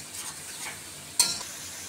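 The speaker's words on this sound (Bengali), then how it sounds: "মরিচের গুঁড়া দিলাম, ধনিয়ার গুঁড়া দিলাম, একটু জিরা গুঁড়া দিয়ে দিলাম" Spice paste of chili, coriander and cumin powder being sautéed in a pan, with a soft steady sizzle and stirring scrapes and one sharp clink partway through.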